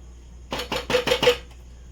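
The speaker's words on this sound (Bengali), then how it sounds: "নাড়াচাড়া করবো ভালো করে" Stirring chicken maharani in a metal pot: about five quick, close scraping clacks of a spoon against the pot in an even rhythm, sharp and fairly loud against a quiet background.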